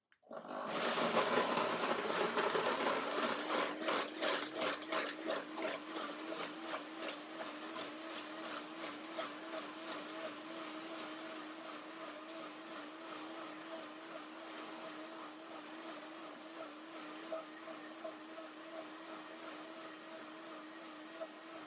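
Countertop blender whirring through cashews and water, starting with a loud coarse grind that settles into a steady, quieter motor hum with a pulsing churn.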